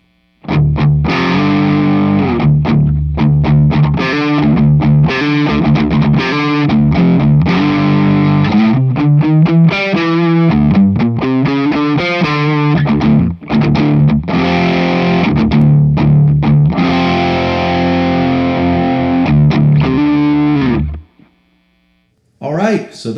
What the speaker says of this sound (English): those are the sounds of Victory the Jack 180 watt hybrid guitar amplifier